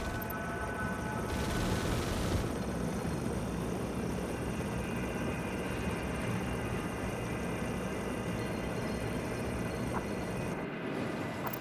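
Cheetah gunship helicopters in the EndWar game produce a continuous, steady rotor and engine drone with a dense, rumbling wash that holds unchanged throughout.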